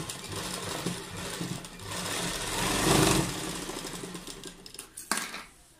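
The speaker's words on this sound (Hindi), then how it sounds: "तो इस तरह हमने पोटली के बिल्कुल साथ साथ एक सिलाई लगा देनी है।" A sewing machine runs steadily along a seam beside potli buttons on palazzo pants, the motor hum swelling and fading before a few sharp clicks at the end.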